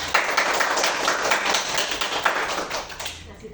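Seated participants at a teachers' training session applaud together, a moderately loud burst of many hands clapping in a quick, slightly uneven rhythm that continues for several seconds before thinning out at the end.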